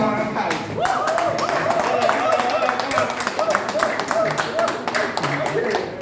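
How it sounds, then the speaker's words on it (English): Clapping from an audience applauding a presenting group at a business talk, a scattered patter of hands with voices and cheering running over it throughout. "Please clap for them once again."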